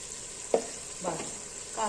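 Chicken frying in desi ghee gives a soft, steady sizzle with a few short stirring scrapes over under two seconds, fairly quiet and close.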